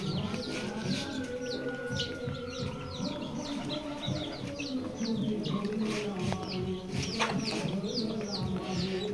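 Chirping of native Bangladeshi chicks and brooded layer chicks at a poultry seller's, a dense chorus of high peeping calls mixed with clucks and a murmur of voices.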